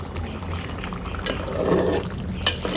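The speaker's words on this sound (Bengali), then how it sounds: "কিন্তু ফুটতে শুরু করে দিয়েছে" Water in a pot starts to boil, giving a low bubbling and hissing bed with a brief swell of louder bubbling near the middle.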